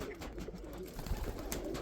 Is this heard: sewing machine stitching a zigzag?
no